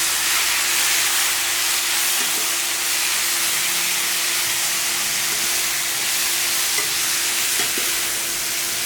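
Chicken and onions sizzling in a frying pan while being stirred, a steady bright hiss of frying with occasional soft scraping and clinks from the stirring.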